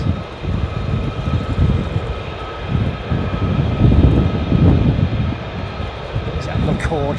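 F-35 military jets fly at RAF Lakenheath, a loud, rough engine roar with wind buffeting the microphone, while people talk over it throughout.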